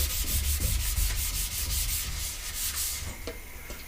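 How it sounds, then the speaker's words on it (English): Sandpaper rubbing back and forth over primer on a skateboard deck, a steady run of rhythmic strokes that pause near the end, close and fairly loud with no talking. "we should have enough primer to sand out any imperfections"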